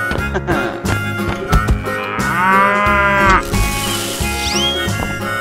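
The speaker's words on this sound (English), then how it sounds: "Cow." A cow mooing loudly and close, with several drawn-out lowing calls, the longest swelling in the middle, plus a few shorter grunts around them.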